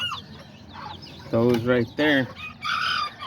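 Roosters and hens cluck and squawk close by, loud harsh calls in short bursts, with someone speaking briefly underneath.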